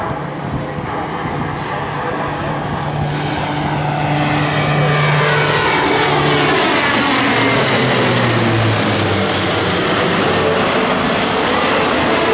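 A C-130J-30 Hercules turboprop transport flies a demonstration pass at a 2011 Rhode Island Air National Guard open house airshow, its loud, steady engine roar swelling as it nears and sweeping in pitch as it passes.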